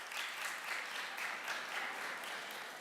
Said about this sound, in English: hold your round of applause until they're both up here